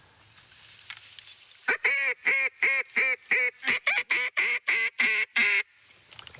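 A rapid series of loud, regular quacking calls from hunters' duck calls, about a dozen evenly spaced honks, mimicking several ducks calling together in a steady rhythm.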